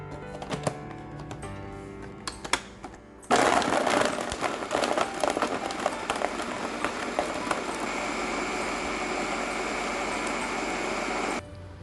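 A blender whirs loudly and steadily for about eight seconds, mixing blueberries, organic plain yogurt, ice and rice syrup, after a stretch of lighter clatter.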